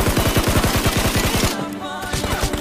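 Automatic gunfire in the shooter game Peacekeeper Elite, a rapid, loud burst of evenly spaced shots for about a second and a half, then a brief tail of ringing echo.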